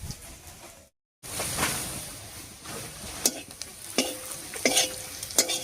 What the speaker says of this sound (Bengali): ফোড়নের সঙ্গে হলুদটা মিশিয়ে নিয়েছি।